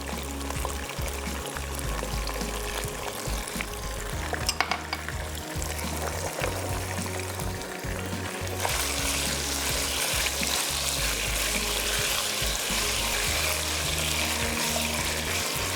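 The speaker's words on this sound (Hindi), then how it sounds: "यहाँ पे मटन जो है हमारा इसको करेंगे फ्राई" Mutton frying with salt in a karahi, a steady loud sizzle and crackle that grows brighter and fuller partway through, with occasional clinks and scrapes of a utensil against the pan.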